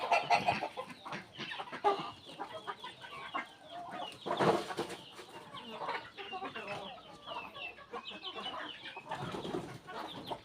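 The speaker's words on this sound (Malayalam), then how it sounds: "രാവിലെ തന്നെ കോഴിക്കളെ സന്ദർശിക്കാൻ വന്നു." Chickens cluck and murmur close by in a farmyard, a busy run of short overlapping calls that rise and fall in irregular bursts throughout, with louder peaks near the middle and end.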